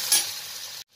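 Bitter gourd sabji with chili powder and tomato sizzles in a pan as it gets a quick stir, giving a short burst of close frying hiss that cuts off abruptly, with no voice.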